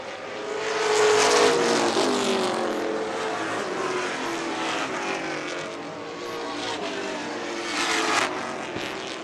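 Pro stock race cars racing, the leading car chased closely by another: a loud, continuous engine roar that swells and fades slightly as the cars pass, with a steady rasping drone and no voices.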